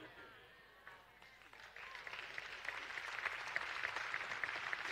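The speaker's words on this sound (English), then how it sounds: "I love the golf clap." A church congregation offers a light, scattered golf clap that begins sparse and builds into a soft patter of clapping over a few seconds, fairly quiet and somewhat distant.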